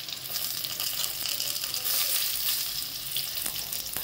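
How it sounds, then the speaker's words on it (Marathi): Ridge gourd sautéing in a little oil on a low gas flame makes a soft, steady hiss with light stirring scrapes, close and moderately quiet, with no one talking. "गॅस सिमवर करायचं, तेलामध्ये असं परतून घ्यायचं"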